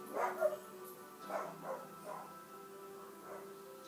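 Muffled dog barks and yips come in a few separate bursts over a steady low hum, fairly faint and somewhat distant.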